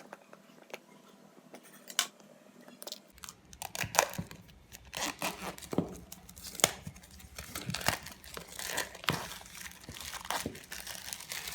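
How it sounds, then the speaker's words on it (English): OnePlus 7 phone packaging is opened up close, with crinkling plastic, tearing and sharp cutting snips in irregular bursts, growing busier after a quiet start, with no speech over it. "Let's remove this quickly."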